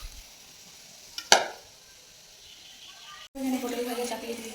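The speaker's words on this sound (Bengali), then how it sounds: "এখানে পটল ভাজা চাপিয়ে দিয়েছি, আর পটলগুলো ছেড়ে দিয়েছি।" Pointed gourd (potol) slices dropped into hot oil, a sharp burst of sizzling at first, fading, then a louder continuous frying hiss resuming near the end.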